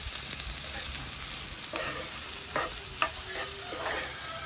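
Ginger, garlic and green chili sautéing in a pan, a steady close sizzle with occasional scrapes and stirring taps from a utensil, no voices.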